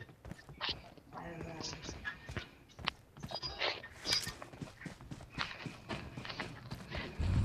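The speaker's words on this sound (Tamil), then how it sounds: "அப்பா இங்க பாரு 2 குதிரை வண்டியை நிக்குது பாரு." Hooves of horses pulling a carriage in a video game clip-clop steadily in a soft, even rhythm, while people talk over the gameplay.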